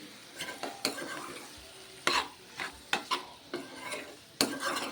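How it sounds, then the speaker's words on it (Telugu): Chopped tomatoes and green chillies cooking in a pan over a medium flame, with a soft steady sizzle broken by repeated scraping stirs of a spoon against the pan, close and without talk. "ఇప్పుడు టమాటా పచ్చిమిరపకాయలు అండి ఇవి ఇవి వేసేసుకుందాం ఇప్పుడు మీడియం ఫ్లేమ్లో పెట్టేసి మంచిగా మగ్గనిద్దామండి"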